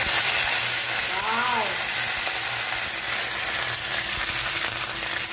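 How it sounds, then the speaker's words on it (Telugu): Tempering spices for gongura dal sizzling in a small amount of hot oil produce a loud, dense, continuous hiss close to the listener, and a voice briefly sounds underneath it. "మన ఫేవరెట్ తాలింపు అనమాట నూనె తక్కువ వేసానమ్మా"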